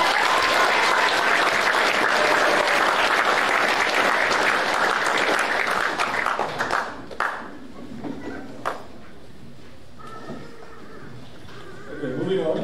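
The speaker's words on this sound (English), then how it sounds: "Round of applause for them." An audience at a junior school prizegiving claps loudly and densely, then the applause thins and fades out after several seconds, leaving scattered room noise and a few stray claps.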